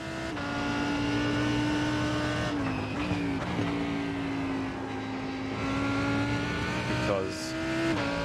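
Race car engines in a GT sprint racing video game at Imola whine loudly at high revs, pitch dropping and climbing through gear changes and braking, with faint tire squeal and other cars nearby.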